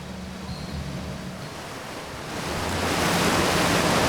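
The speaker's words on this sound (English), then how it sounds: "this is the waterfall" A waterfall in the video game Outer Wilds gives a steady, broadband rushing roar that swells louder about halfway through and holds there, with no voices.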